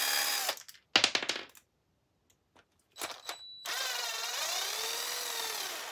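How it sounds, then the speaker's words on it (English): A power driver backing screws out near a shock tower during an upgrade, with short whirring bursts separated by pauses and a longer sustained whine at the end, close and fairly loud. "Get some screws out of there then."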